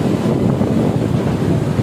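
Steady, loud wind buffets the microphone as a rider moves fast on a motorbike along the Panipat ring road on a cold, rainy day, a continuous low rushing roar with no voices.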